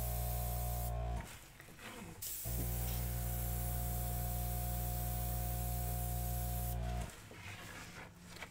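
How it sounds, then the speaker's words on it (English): Bursts of an airbrush spraying purple acrylic paint hiss steadily up close in long continuous passes, broken by two short pauses. "I always like to turn it around when I airbrush the other side"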